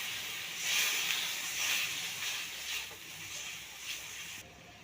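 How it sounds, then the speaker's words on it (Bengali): Paneer and its soaking water poured into a pan of fried spice paste in oil, giving a loud, steady sizzling hiss that swells and settles over several seconds. "এবার কিন্তু আমি পনিরটা যে রেখেছিলাম জলে ডুবিয়ে, সেই পনিরটা জল সমেত দিয়ে দেব।"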